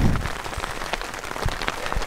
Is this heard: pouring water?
no